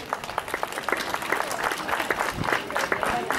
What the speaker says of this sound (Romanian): Le mulțumesc încă o dată și vă rog să-i aplaudați.